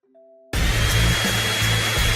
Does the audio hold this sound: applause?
no